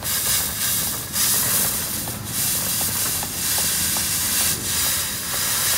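A diesel-fed fogging machine runs with a loud, steady hiss and rushing noise, broken by a few surging pulses and faint rhythmic ticking, close by.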